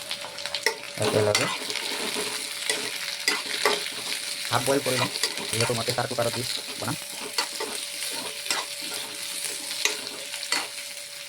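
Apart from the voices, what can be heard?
potatoes frying and being stirred in a pan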